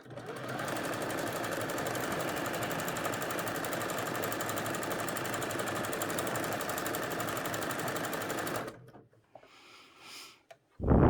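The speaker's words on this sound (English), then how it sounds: "Now this is sewing in the round because it's already joined into a circle or a hoop or a loop" A sewing machine runs continuously for about eight seconds, sewing a bodice to a skirt in the round, with a fast, even stitching rattle before it stops and leaves faint handling noises.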